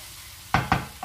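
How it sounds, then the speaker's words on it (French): A spoon stirring harissa sauce in a pan gives two close scraping, sizzling strokes and a fainter third, loud and near with no talk. "on remue"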